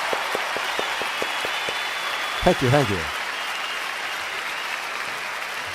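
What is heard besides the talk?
applause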